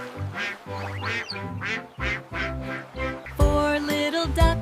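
Cartoonish duck quacks pulse in a steady rhythm over a cheerful nursery-rhyme backing about little ducks, roughly eight close, loud calls before the music swells fuller toward the end.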